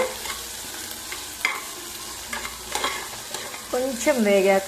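Ingredients frying in a pan until brownish, sizzling steadily while a utensil scrapes and stirs in irregular strokes, with a louder burst of activity near the end.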